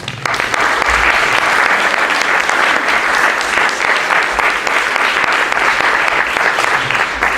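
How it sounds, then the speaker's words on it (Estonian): Concert audience applause at a charity concert, a full, dense round of clapping that holds steady and loud for several seconds with no voices over it. "Nii et aplaus selle peale palun"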